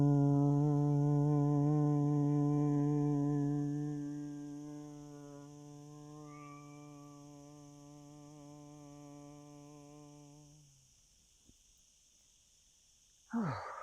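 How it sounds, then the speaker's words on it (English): A person exhaling in a yoga session makes one long, steady voiced hum, loud at first and gradually fading over about ten seconds before stopping, with a soft rustle at the end. "Breathing in and then out with the longest humming sound you can make."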